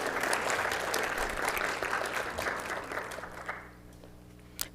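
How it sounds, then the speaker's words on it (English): A room of people applauds a teen pageant queen at a city council meeting, brisk clapping that holds steady, then thins and fades out, leaving a low hum and a few stray claps. "So let's give her a round of applause before I even start."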